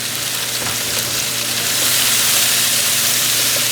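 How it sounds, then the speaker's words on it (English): Onions sizzling in a hot pan for a Philly chicken cheesesteak, a steady close frying hiss that swells slightly louder partway through, with faint stirring scrapes and no talking. "I'll let this saute a good 5-8 minutes"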